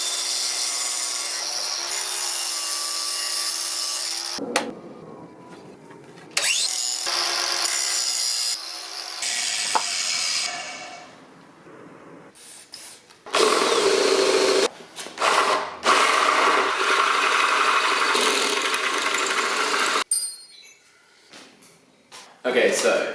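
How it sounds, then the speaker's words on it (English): A power drill whirs and grinds in repeated bursts, widening a hole in a steel gear, loud and close, with short pauses between runs. "I have to expand this hole, make this thinner, and drill holes in the side of this"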